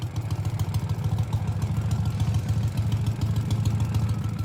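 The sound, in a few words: Ural Gear Up Russian sidecar motorcycle engine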